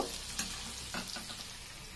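Eggs fry in a pan for egg rezala, giving a steady close sizzle with light stirring scrapes mixed in.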